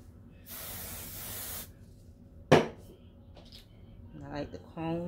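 A hairspray can hisses in one steady burst of about a second onto a lace front wig, loud and close, followed by a short click, with a voice speaking briefly afterward.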